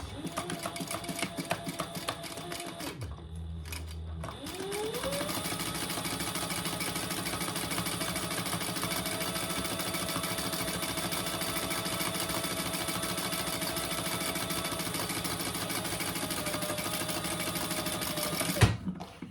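A sewing machine hums steadily as it sews down the open side of a fabric caddy an eighth of an inch from the edge, with a brief pause near the start before the motor resumes.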